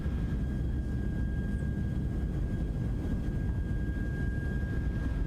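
Simulated PMDG 737-600 jet engines spool up at takeoff thrust, a loud steady low roar with a thin high whine holding throughout, alone without talk.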